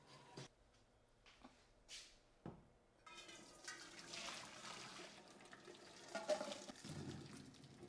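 Cooked giant beans being drained into a sink, water pouring and splashing steadily for several seconds after a few brief clanks and knocks, all fairly close.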